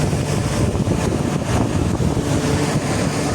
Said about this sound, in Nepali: चिसो न चिसो हावा चले